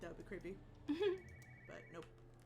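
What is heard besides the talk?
No everyday noises stand out.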